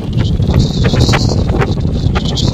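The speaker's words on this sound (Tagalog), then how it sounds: "Ang lakas-lakas ng hangin." Strong wind gusting at Kota Beach on Bantayan Island in the evening, a steady, loud rush of buffeting noise that roars against the microphone throughout.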